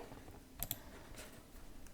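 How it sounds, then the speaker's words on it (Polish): Computer keyboard typing and mouse clicking while building a database table in Microsoft Access, a few soft, close, sharp clicks spaced out over quiet room tone. "Klikam sobie dalej"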